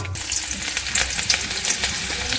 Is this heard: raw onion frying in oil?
yes